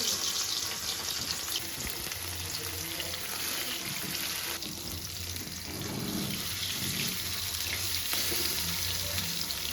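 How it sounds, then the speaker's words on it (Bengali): Paneer pieces fry in hot mustard oil, making a dense, loud, continuous sizzle and crackle up close that holds steady for about ten seconds. "তাই আমরা পনিরগুলো হালকা করেই ভেজে তুলে নিচ্ছি।"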